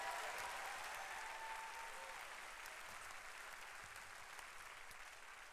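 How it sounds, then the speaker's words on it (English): Steady, dense applause from a large crowd at an evangelist's church service, sustained throughout and slowly easing off slightly, with no talking on top. "clap those hands one more time and let them hear you in advance."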